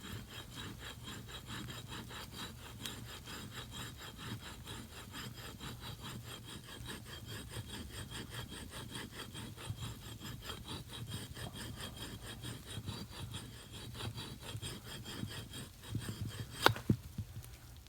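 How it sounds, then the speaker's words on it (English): A hand blade carves shavings from wood, making faint, continuous, rhythmic scraping strokes up close, with a couple of sharp clicks near the end. "Let's do a little bit more detail type work here, see if we can get some shavings."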